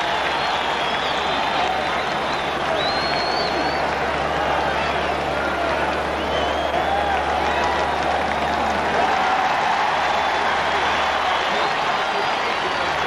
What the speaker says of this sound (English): Crowd noise could have influenced them.